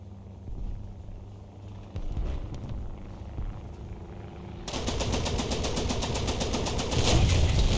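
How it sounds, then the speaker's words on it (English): Cannon fire from an aircraft in War Thunder's ground realistic battles, a dense rapid burst of loud automatic shots that starts partway through and continues over steady engine and battle noise. "that guy's got cannons"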